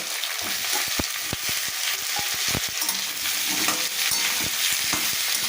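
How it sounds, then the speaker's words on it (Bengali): Sliced potatoes and onions fry in oil in a pan with a steady, dense sizzle broken by sharp clicks and scrapes of a spatula stirring, close up, no voices. "আলু আর পেঁয়াজ খুব ভালো করে আমি ভেজে নেব"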